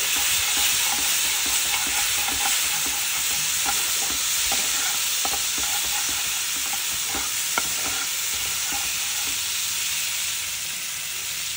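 Ground spice paste sizzles in oil over a clove and bay-leaf tempering for doi potol, a continuous close frying hiss with soft stirring scrapes and light crackles throughout.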